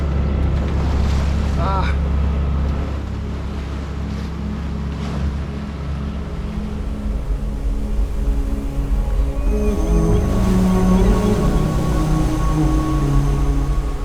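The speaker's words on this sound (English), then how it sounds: "The waves are coming down now." Ocean waves surge and crash around a sailboat on rough water near the Faroe Islands, with wind. A loud, continuous wash of water and rumble fills the whole stretch, swelling slightly toward the end.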